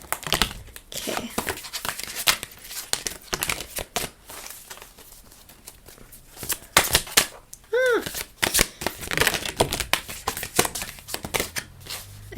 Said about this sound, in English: I'm gonna shuffle them in a different way